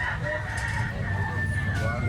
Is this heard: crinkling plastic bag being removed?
no